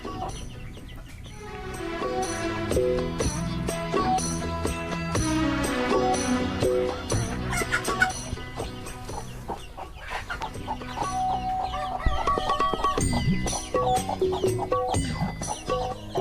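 Desi and Fayoumi hens with their chicks, heard as close, continuous clucking and chirping that layers over itself for the whole stretch, with no talking.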